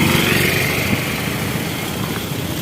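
A motorbike rolls slowly along a village road, its light engine buzzing in a steady, loud, close drone with wind-like rush and no talking.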